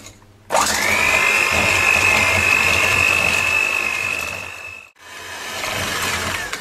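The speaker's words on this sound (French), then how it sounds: "Et c'est parti, on y va, on commence à mixer." Electric hand mixer beating madeleine batter with vanilla sugar, a loud steady whine that spins up sharply, runs continuously, briefly cuts out near the end and restarts, with no talk.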